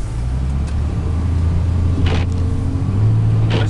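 A 2004 Dodge Ram 3500 Laramie crew cab dually with a 5.9 Cummins turbo diesel idling: steady low rumble with a faint turbo whine, heard close and loud throughout with no talk.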